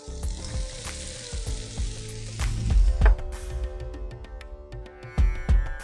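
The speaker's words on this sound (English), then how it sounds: "Let's take this piece and then fry our onions." Onions frying in butter for butter chicken, a steady sizzle with occasional stirring clatter and scrapes of a utensil in the pan, close and fairly loud.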